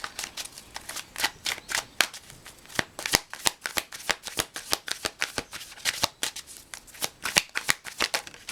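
A deck of tarot cards is shuffled by hand in quick, crisp riffles and snaps that repeat steadily throughout, close and clear with no talking.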